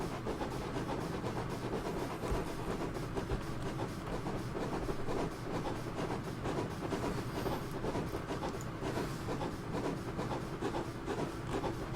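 A train running in Train Simulator 2016, heard as a steady, dense rumble with rhythmic clicking of wheels over rail joints, continuous and fairly loud throughout with no talking.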